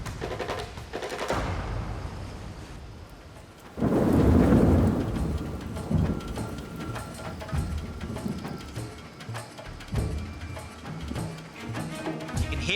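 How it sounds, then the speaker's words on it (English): A storm on a Survivor New Zealand challenge site brings steady rain with a loud thunder rumble swelling near the middle, followed by continued rainfall and lighter rumbles. "You can hear the thunder."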